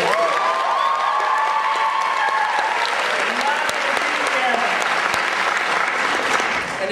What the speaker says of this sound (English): So make sure you welcome everybody on stage. Lots of claps.